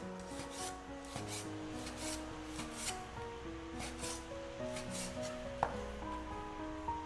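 A kitchen knife slices beef front leg or tenderloin across the grain into thick pieces. The strokes are steady and repeated, and one sharper knock comes near the end, all over soft background music.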